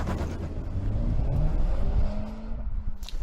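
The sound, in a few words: Honda Civic Type R engine revving as car accelerates away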